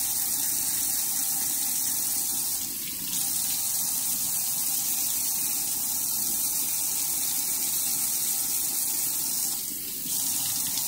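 Water streams continuously from a tap over a sanded tumbler being rinsed, a steady close hiss broken by two brief dips where the flow is interrupted.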